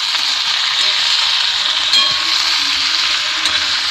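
Beans and potatoes with turmeric being stirred in a pan, giving a steady, close frying hiss that runs evenly throughout with no clear breaks.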